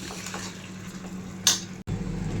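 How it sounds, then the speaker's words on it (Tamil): A spoon stirs chicken biryani masala in a pressure cooker against a steady low sizzle, with soft scraping and one sharp metallic clank partway through, and no one speaking. "ஃபுல்லாக கிளறி விடணும்"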